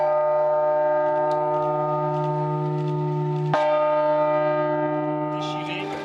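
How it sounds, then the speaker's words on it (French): Eight church bells of the north belfry at Notre-Dame cathedral in Paris ring loudly and close, a sustained rich metallic tone with a fresh strike midway and long ringing overtones. "on a entendu les 8 cloches du Beffroi Nord"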